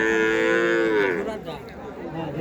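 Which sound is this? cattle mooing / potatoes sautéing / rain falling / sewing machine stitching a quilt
cattle mooing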